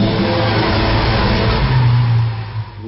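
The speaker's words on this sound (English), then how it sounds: "The V12 motor represents what for us is the sound, the music of the car" A Lamborghini Aventador's V12 engine revs hard and loud, a dense sustained roar that rises in pitch and then eases off near the end, with no voices over it.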